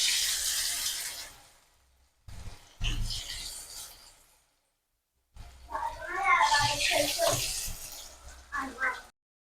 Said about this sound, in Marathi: आपल्याला क्रिस्पी होईपर्यंत आपली इडली तळून घ्यायची आहे.